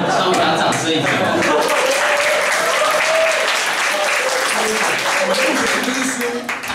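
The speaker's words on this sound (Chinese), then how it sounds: "好，稍微给他掌声一下。" An indoor audience claps steadily, a dense burst of applause that holds for several seconds and tapers slightly, with voices talking over it.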